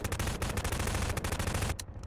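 Rapid automatic gunfire in Garry's Mod, aimed at the TARDIS, hammers out a fast, loud stream of closely spaced shots that stops abruptly near the end.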